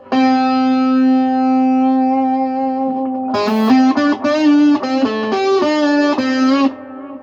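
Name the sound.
echo effect added to Marshall guitar amp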